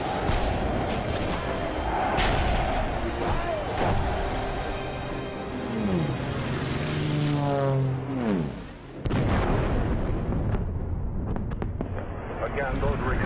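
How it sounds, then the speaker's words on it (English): Heavy, rumbling blasts from WWII German bombing raids boom overhead, with descending whistling tones sliding down before a sharp crash; dense noise throughout and a voice audible underneath. "Again, those were explosions overhead."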